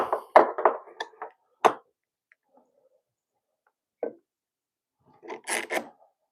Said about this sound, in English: I'm going to clamp this thing.